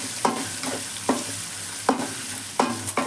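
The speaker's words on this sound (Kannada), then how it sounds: "ಇವಾಗ ಹಾಕ್ಬಿಟ್ಟು ಚೆನ್ನಾಗಿ ಮಿಕ್ಸ್ ಮಾಡ್ಕೊಳ್ಳೋಣ." Chopped onions and curry leaves fry in a pan, giving a steady close sizzle broken by a handful of sharp scraping strokes of a spoon as they are stirred at a loose, regular pace.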